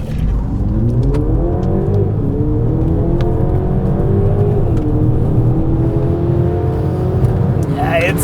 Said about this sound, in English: There is a little roary tone to this 4-cylinder engine, but it's just so stable when on the move like this.